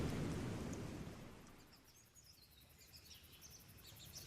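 A stormy sea in a Tempest audiobook: low rumbling thunder and rain fade from loud to quieter, with faint high bird-like cries over the wash of wind and water.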